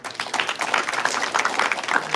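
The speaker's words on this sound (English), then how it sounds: "Let's give a bigger clap than that." An audience claps during a live production, dense and fairly loud, continuous overlapping handclaps with a few sharper individual claps standing out throughout.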